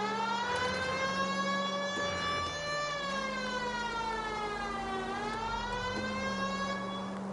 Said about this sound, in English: That siren is loud as shit